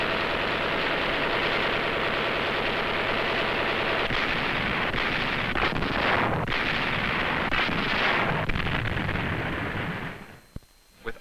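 Heavy WWII naval shelling, bombing and rockets pounding Okinawa island defenses, a continuous dense roar of blasts and gunfire that fades out near the end.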